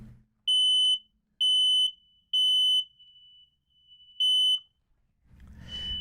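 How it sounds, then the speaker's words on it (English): Interconnected household smoke detectors being tested shriek in four long, loud, high-pitched beeps with short silent gaps between them, followed by a brief fainter chirp and a low rumbling noise at the end. "all the alarms in the house are sounding"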